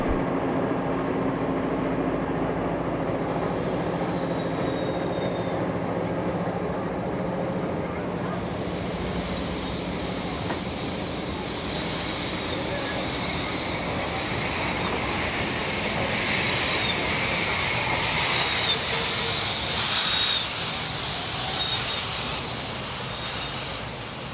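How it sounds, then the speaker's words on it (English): A train led by locomotive 4204 in New South Wales, a broad continuous rumble with hissing wind-like noise that grows brighter and fuller in the second half, with no voices. "(4204) will now lead the train back to Penrith."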